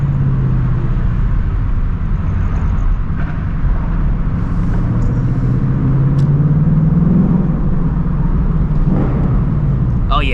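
A 2024 Ford Mustang GT with a loud exhaust drives at night, its steady engine rumble and exhaust drone filling the whole stretch, with the pitch rising and falling as the throttle changes.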